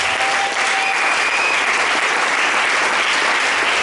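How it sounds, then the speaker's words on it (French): A church congregation applauds for Jesus during a worship service, a dense, steady wash of clapping from many hands that fills the whole stretch at full volume without pause. "Acclamons Jésus pour ça."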